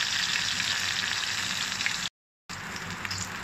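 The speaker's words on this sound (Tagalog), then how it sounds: "Lagyan natin sa kawali na may mantika. Prito na yan." Milkfish sizzles in hot oil in a pan, a steady dense crackle that holds at close range, breaks off briefly in a moment of silence, then resumes. No voices.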